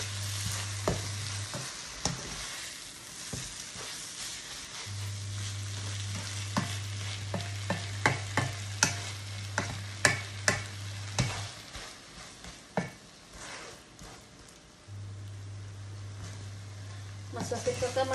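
Omelette mixture fries in a pan with a soft sizzle beneath repeated scraping and tapping strokes of stirring, fairly quiet and close, with a low steady hum in parts.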